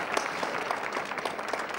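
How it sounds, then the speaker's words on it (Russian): Studio audience applauding at a comedy film event, a brief burst of steady clapping at moderate volume, with no one speaking over it. "Аплодисменты."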